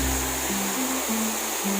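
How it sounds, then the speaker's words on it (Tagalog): Daranak Falls, a large volume of water tumbling down, makes a constant loud rushing roar that fills the whole moment without pause. "maraming tubig na bumabagsak eh"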